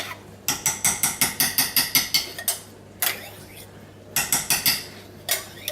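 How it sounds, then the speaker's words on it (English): Curd soap being stirred as it melts in a pot, giving repeated bursts of quick metallic scraping and clinking strokes in a steady rhythm, with short pauses between runs and no talking. "stir this a bit to get it melted down."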